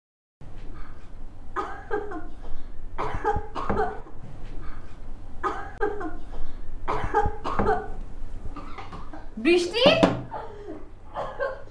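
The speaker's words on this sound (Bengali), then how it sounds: "কাশিটা মনে হয় একটু বেড়েছে তাই না" A sick young woman coughs repeatedly in a drama scene, with a series of close, rasping coughs in irregular bursts across the scene and one sharper fit near the end, under low background hum.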